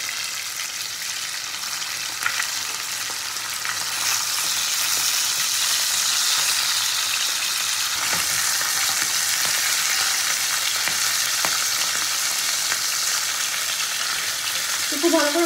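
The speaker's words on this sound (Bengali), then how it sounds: "এই পিঠটাও আমি ভালো করে ভেজে নেবো।" Pabda fish frying in hot oil in a kadai gives a steady, dense sizzle and crackle at close range, holding even throughout with occasional spatter pops.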